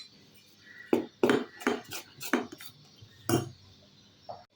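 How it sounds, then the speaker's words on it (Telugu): A spoon knocks against a bowl while blended batter is mixed with salt: six or seven distinct, fairly loud clinks arrive in an uneven rhythm, each followed by a short scraping tail, with quiet pauses in between. "ఉప్పు వేసుకొని ఒకసారి అంతా బాగా కలుపుకుందాం"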